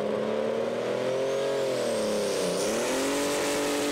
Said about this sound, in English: Two French tractors, which are very much based on the Pro Stock specification, but running methanol fuel instead of diesel.